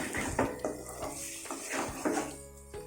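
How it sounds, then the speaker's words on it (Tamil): A chilli egg curry with sauce is stirred in a pan, giving repeated scraping and clinking of a utensil against the metal in an irregular rhythm, close and moderately loud, with a faint sizzle underneath. "சாஸ் ஊற்றி இப்போ இது நல்லா கிளறி விட்டுருங்க"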